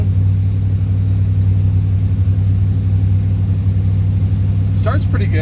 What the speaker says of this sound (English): Running high idle.